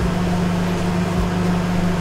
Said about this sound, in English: I'll use microwave